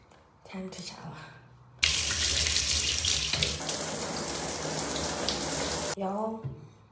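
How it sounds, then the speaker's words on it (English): A shower is turned on and runs for about four seconds, a loud, dense hiss of spraying water close by that cuts off abruptly, with brief quiet sounds before and after. "now time to shower"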